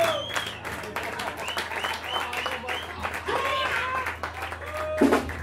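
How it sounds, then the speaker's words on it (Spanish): Audience applause for a band at a live club show, a crowd clapping and cheering throughout, with voices mixed in over a low steady hum. "Hacemos un aplauso para todos, creo que para ustedes, para la banda."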